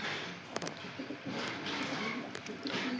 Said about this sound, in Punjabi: ਮੇਰੇ ਬਾਲੀ ਤਗੜੀ ਕਬੂਤਰੀ ਆ